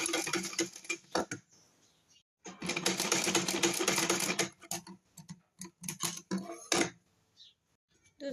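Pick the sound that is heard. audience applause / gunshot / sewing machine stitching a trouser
sewing machine stitching a trouser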